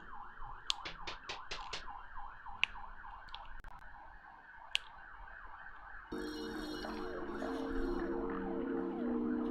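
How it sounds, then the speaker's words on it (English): Wailing sirens outside a window rise and fall in repeated sweeps, then several overlapping siren tones blend into a denser, louder chorus toward the end. "mixing in real life with the sirens outside the window"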